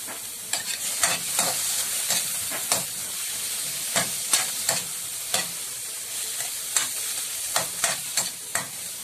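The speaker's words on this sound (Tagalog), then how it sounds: "Ngayon pong malambot na po ang ating vegetables, ihalo na po natin ang ating" A spatula stirs softened vegetables and scrambled egg in a pan, with about twenty sharp scraping clicks at an irregular rhythm over a steady low hiss of cooking.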